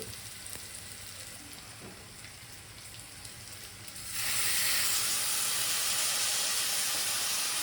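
Brinjal pieces hit hot oil in a pan: a quieter hiss gives way to a sudden, loud, sustained sizzle of frying, close and continuous with no talk.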